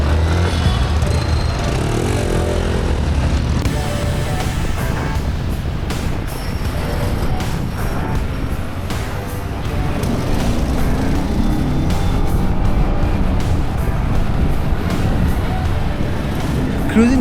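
Yamaha WR155R 155cc dirt bike riding through city traffic in Nepal, its engine buzzing loud and close amid road and wind noise, with traffic sounds around and a voice talking over it.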